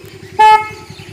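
A car horn gives one short, loud honk over a low, rhythmic engine rumble nearby.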